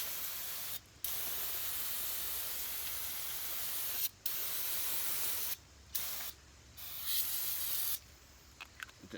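Bursts of degreaser sprayed onto greasy parts during cleanup, several long hissing blasts separated by brief pauses, close and loud with no voices.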